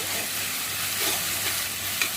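Curry sizzles in a hot frying pan as it is stirred, a steady hiss with faint scraping, no voices.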